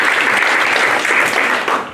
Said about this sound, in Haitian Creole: Amen, on applaudit de ce Amen.